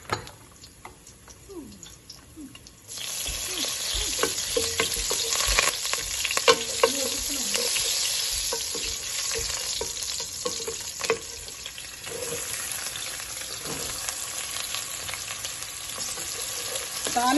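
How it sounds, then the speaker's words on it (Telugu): Onions and green chillies drop into hot oil already tempering with garlic, mustard seeds, cumin and curry leaves. After a quiet start, a loud, steady sizzle and crackle sets in and carries on with occasional stirring clicks. "తాలింపు కొంచెం వేగిన తర్వాత ఉల్లిపాయ పచ్చిమిరపకాయ వేయాలి."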